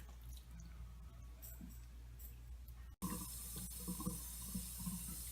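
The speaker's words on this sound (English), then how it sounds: "You just take the rib sections and rinse them off under the water" Rib sections being rinsed under a running kitchen tap, a steady close wash of water that cuts off briefly midway, then resumes with splashing against the meat and sink.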